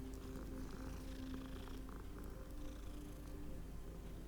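A cat in the video game Hogwarts Legacy purrs in a low, steady, continuous rumble, heard close and alone for several seconds.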